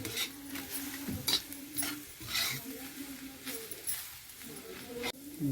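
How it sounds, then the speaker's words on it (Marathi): Scraping and stirring of young jackfruit vegetable on a hot griddle over a wood-fired stove, with a soft sizzle and occasional clinks of utensil against metal. "ह्या तव्यावरती मस्त होते भाजी"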